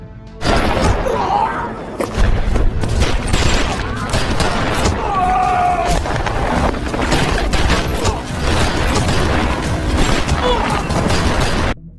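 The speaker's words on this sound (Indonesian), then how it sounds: "Sehingga baku tembak sengit tak bisa dihindari lagi." Intense gunfight from an action film, with dense bursts of gunfire, crashes and impacts filling the scene almost continuously at loud, close range, mixed with other action sound effects.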